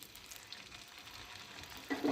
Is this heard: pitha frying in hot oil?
yes